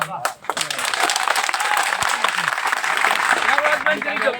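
Applause from a crowd of Koli community members gathered at a hospital: dense, continuous clapping that stays loud throughout, with voices talking over it.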